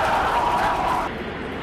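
Continuous broadband roar of a SpaceX Super Heavy rocket at liftoff during a Gulf Coast launch, loud and steady from start to finish, its upper hiss falling away partway through while the deep rumble holds.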